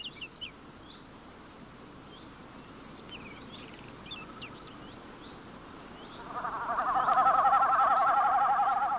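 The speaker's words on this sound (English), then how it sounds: "the male's drumming is produced not by its call, but by tail feathers vibrating as it dives through the air" A male snipe drums over a bog, its tail feathers vibrating in a dive to make a pulsing, bleating hum that swells in from about six seconds and holds loud to the end, after faint bird calls earlier.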